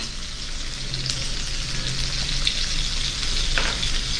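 Onions sautéing with a little salt in a pan for Jaffna-style brinjal milk curry, a loud continuous sizzle with occasional stirring scrapes, close up and without speech.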